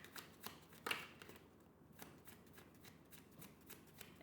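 A deck of playing oracle cards is shuffled quietly at close range, giving soft riffling flutters and a few sharper card snaps in an otherwise hushed room.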